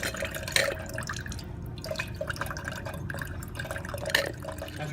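A soil sample is rinsed into a dispersion cup with distilled water in a lab: soft splashing and dripping trickle on steadily, with a few slightly louder drops.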